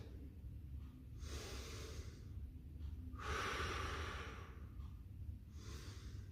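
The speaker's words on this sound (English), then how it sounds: "Just before you touch the ground, exhale, lift." Slow, deliberate breaths during a Pilates lift, close and soft, with long audible exhales through the nose and mouth at regular intervals.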